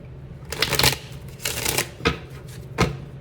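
A deck of oracle cards being shuffled close up, several quick riffling bursts with brief pauses between them, no talking.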